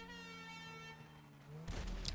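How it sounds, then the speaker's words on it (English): A vehicle air horn in GTA 5 gives one sustained, steady, tonal blast lasting over a second and a half, then cuts to a short burst of rough, noisy clatter. "The air horn is adding insult to injury."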